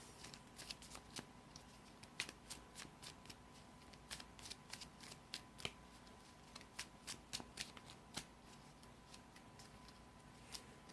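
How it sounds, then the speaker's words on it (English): Quiet, rapid riffling and flicking of Pokémon trading cards, with repeated crisp bursts of shuffling at close range and nothing else around. "and then shuffle our deck."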